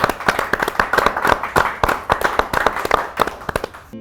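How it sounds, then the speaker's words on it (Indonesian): A small audience at a poetry reading event claps in quick, scattered bursts of sharp, close hand claps that keep going for about four seconds and then thin out near the end. "Kasih tepuk tangan"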